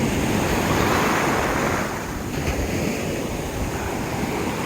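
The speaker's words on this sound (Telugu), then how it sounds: "చూస్తున్నారు కదా సముద్రము ఎలా ఉన్నదో" Sea waves wash steadily onto the shore at a beach where crabs are caught. The surf roars in a constant, fairly loud wash with no voices over it.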